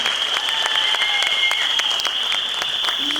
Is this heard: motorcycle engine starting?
no